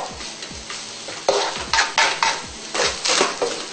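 Adobo fried rice is tossed and mixed in a pan, a spatula scraping and clanking against the metal in quick repeated strokes with a faint sizzle beneath, close and fairly loud, no talking.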